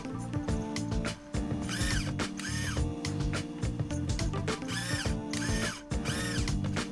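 Steering servo on an RGT Rescuer RC scale crawler whirring back and forth in short repeated mechanical bursts, close and fairly loud, with no talking.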